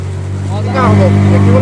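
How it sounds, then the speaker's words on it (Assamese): Motorboat engine on a river in Arunachal revving up, a loud steady drone that climbs in pitch and volume partway through, close by with water rushing. "বাপৰে, এতিয়া মানে ইঞ্জিন স্পীড দিছে।"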